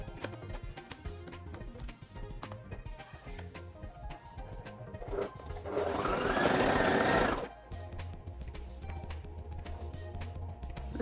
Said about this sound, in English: I will take it to the sewing machine to sew. So here I'm attaching the neckband to the dress